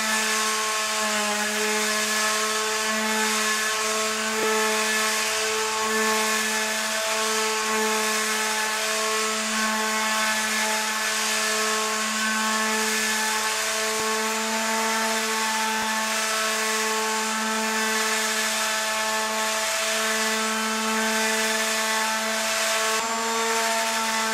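A Metabo FMS 200 Intec electric sander whirs continuously at a steady pitch, grinding against a wooden bench close by with no pauses.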